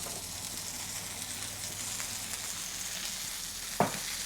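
Sea bass searing in a hot pan, a steady soft sizzle running throughout with one brief louder clatter near the end.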